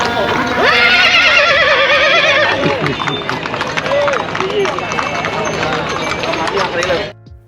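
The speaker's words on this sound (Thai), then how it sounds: "พลาดไม่ได้ที่เราจะต้องนั่งรถม้ากันครับ" A horse pulling a carriage through Lampang, Thailand, whinnies loudly at close range, then its hooves clip-clop steadily on the road while someone talks over the sound.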